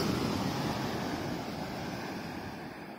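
Sea waves wash onto Kollam Beach in Kerala, a continuous close roar of surf with wind, strongest at the start and easing slightly over a few seconds.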